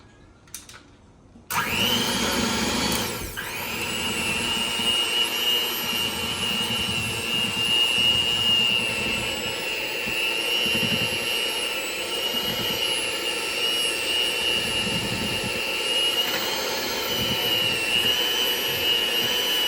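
An electric mixer whirs steadily through cake box cookie dough, starting abruptly after a quiet moment and then running as a loud, constant motorized drone with a faint high whine.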